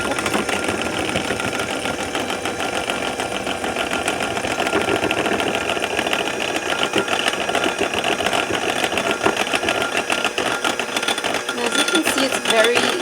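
Electric hand mixer whirring steadily as it blends homemade eye cream of vitamin E, mango butter and shea butter, a continuous buzzing motor sound with a voice talking over it.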